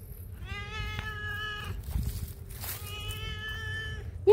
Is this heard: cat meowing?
yes